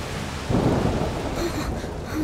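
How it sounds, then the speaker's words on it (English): Thunderstorm in the video game A Plague Tale Requiem: heavy rain hisses steadily while a deep roll of thunder rumbles up close, with fainter pattering on surfaces after it. "The rain is getting worse."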